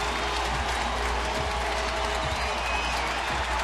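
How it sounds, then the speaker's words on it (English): A baseball stadium crowd cheers at an A's game in Oakland, a dense, steady roar of voices and applause at constant loudness with no breaks. "it's nice to see this less than now sellout crowd get excited"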